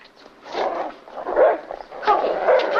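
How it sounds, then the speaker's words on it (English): A dog barks and yips in an agitated burst of short, repeated barks with whimpering edges in a quiet room, close by. "I haven't heard Corky bark in ages"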